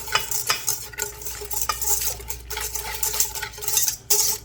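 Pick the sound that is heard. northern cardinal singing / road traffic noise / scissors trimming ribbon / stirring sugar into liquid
stirring sugar into liquid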